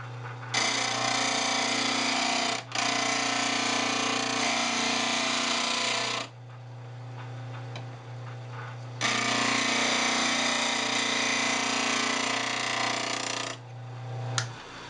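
A bench sharpening grinder working a woodturning tool, two long loud sustained grinding passes of several seconds each separated by a quieter pause, over a constant low motor hum, with no talking.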